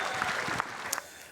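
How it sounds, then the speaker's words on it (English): Brief applause from a studio audience on a lawn bowls show, a short burst of clapping that quickly tapers off. "Well, let's give a big round of applause for Aaron Sheriff for number 7."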